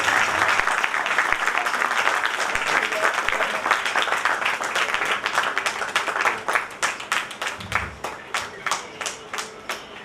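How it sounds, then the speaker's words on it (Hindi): Applause from guests at a Delhi Hindustani Mercantile Association gathering, dense and steady at first, then thinning into separate hand claps that fade out toward the end. "जोरदार तालियां मित्रों।"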